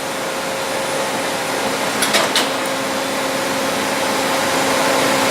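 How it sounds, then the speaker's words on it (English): A Spring Tool 24-inch dip spin machine's vibrating parts table runs with a loud, steady mechanical hum and faint tonal drone, broken by a brief rattling clatter midway, heard alone without speech. "There is the vibrating table, as you can see."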